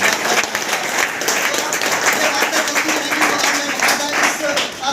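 Audience applause at a school farewell party for tenth-grade students, a steady dense clapping from a large crowd filling the whole stretch at even loudness, with some voices mixed in.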